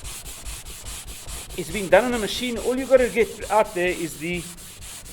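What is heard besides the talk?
sanding a wooden dulcimer guitar body by hand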